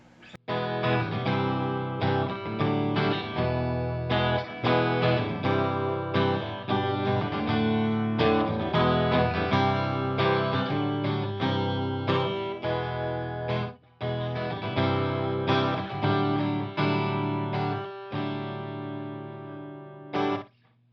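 A 1980 Peavey T-60 electric guitar played through effects, a sustained distorted, chorused tone with steady picked chords and notes, loud and continuous, with a brief break near the middle and no talking.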